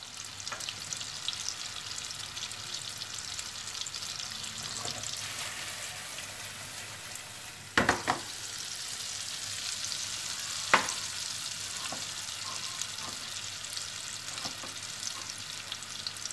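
Meatballs frying in a pan give a steady, fairly quiet sizzle throughout, broken by a sharp knock around the middle and a few lighter clicks and pops.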